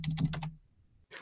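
A computer keyboard is picked up and tapped in a quick cluster of close clicks and clatters, then falls silent before another brief burst of keystrokes.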